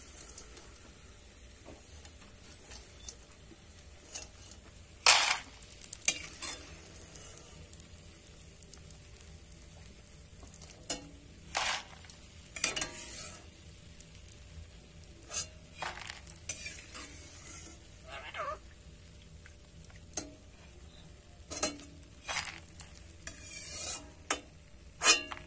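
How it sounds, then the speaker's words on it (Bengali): Boondi, small droplets of gram-flour batter, frying in a pan, with a faint continuous sizzle under sharp scraping stirs of a ladle against metal that come at irregular intervals. "দেখো এই বোঁদেগুলোও কিন্তু আমি ভালো করে ভেজে নিয়েছি"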